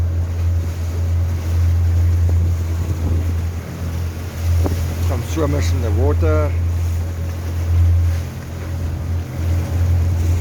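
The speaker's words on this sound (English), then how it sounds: "We're trying to lead into quite a strong northeasterly wind" A boat chugs along at sea off Cape Vidal into a strong northeasterly wind, with a steady low engine drone, heavy wind buffeting the microphone and wave wash, while someone speaks briefly over it.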